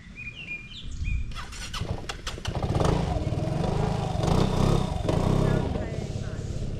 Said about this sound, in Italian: Carichiamo lo scooter.